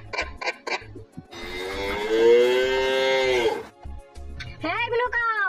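Cartoon cow mooing in a long, loud, drawn-out low call, framed by short bouncy musical sounds and a rising cartoon effect, with a child-friendly voice nearby.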